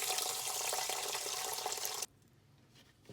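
Water from a tap runs steadily into a rice cooker pot, a bright continuous splashing pour up close that stops abruptly after about two seconds.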